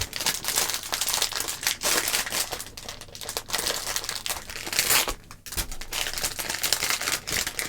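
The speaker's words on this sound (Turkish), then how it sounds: "Poşeti de açalım şöyle." A plastic bag from a screen and device cleaning kit is pulled open, giving bursts of close, loud crinkling and rustling with brief pauses between handlings.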